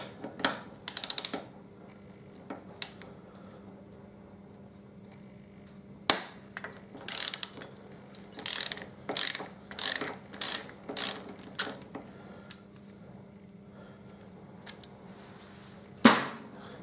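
Ratchet fitted with a Torx 50 bit working the lower triple tree pinch bolts on a Harley-Davidson Deuce, heard as scattered bursts of sharp clicking with a dense run of repeated strokes in the middle, over a quiet background hum.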